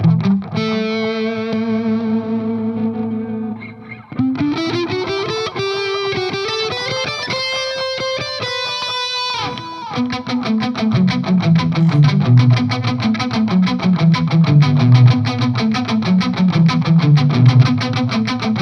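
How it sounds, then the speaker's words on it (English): Mooer D7 delay pedal in a worn tape-echo mode, with repeating notes that waver and smear in pitch. The notes are loud and continuous, shifting through changing phrases, with heavy modulated echoes layering under each new note. "it simulates the tape flutter"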